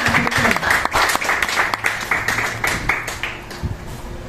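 A church congregation at a worship service applauds to acclaim the Lord, giving sustained, fairly loud clapping from many hands that fades slightly toward the end, with some voices mixed in.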